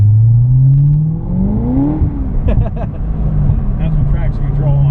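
A Corvette ZR1 roars close by as it accelerates, its engine note climbing steeply and then breaking into a ragged, wavering pitch as the tires lose grip, with the engine running on loudly afterward.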